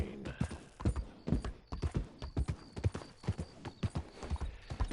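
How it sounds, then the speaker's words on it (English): A horse gallops in Red Dead Redemption 2: rapid, steady hoofbeats clatter throughout, with occasional heavy snorting breaths mixed in, loud and close. "Every now and then the horse takes a breath that sounds like the train chugging a little bit."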